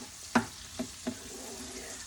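A low, even sizzle of food sauteing in a pan runs throughout, marked by three sharp taps or clinks of a utensil against the pan early on.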